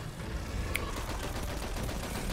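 Rapid weapon fire in Destiny 2's Gambit Prime mode crackles as a dense stream of shots, fairly quiet and continuous, with no voices heard.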